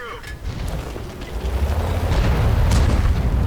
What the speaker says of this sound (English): the rate of fire on the gun's pretty good